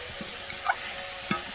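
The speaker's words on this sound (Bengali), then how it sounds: "তাই আমি এখন বাঁধাকপি ভাজা করে নিচ্ছি।" Cabbage fries in a pan in a village kitchen, giving a soft, steady sizzle. A few quick scrapes and clinks of stirring break through it, faint and close, with no voices.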